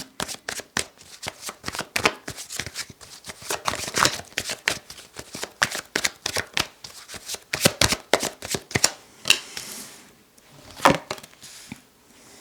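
Tarot cards are shuffled over and over: a dense, rapid, papery riffling and slapping that runs close and fairly loud for the whole stretch, with short pauses near the end and no one speaking.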